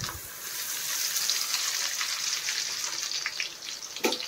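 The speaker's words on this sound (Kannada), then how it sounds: "ಇದೆಲ್ಲ ಸ್ವಲ್ಪ ಚೆನ್ನಾಗಿ ಫ್ರೈ ಮಾಡ್ಕೋಬೇಕು." Urad dal, chana dal and curry leaves frying in hot oil for a tomato chutney, giving a steady, bright sizzle throughout with a sharper crackle near the end, close and without talk.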